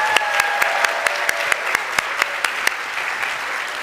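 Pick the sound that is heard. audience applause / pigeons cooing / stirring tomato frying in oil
audience applause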